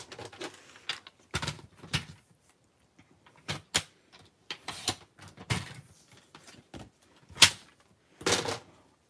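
Paper card being trimmed for card making, a run of short, crisp cutting snips and light clicks in uneven bursts, close and fairly quiet, with no voices.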